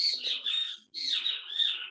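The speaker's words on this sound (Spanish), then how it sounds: "Sí, los pájaros opinando de fondo." Outdoor birds give high, shrill chirping calls in two sustained phrases split by a short gap, fairly clear and unaccompanied by speech.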